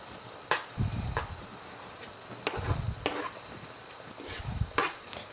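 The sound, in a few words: onions and scotch bonnet frying with tomatoes in pan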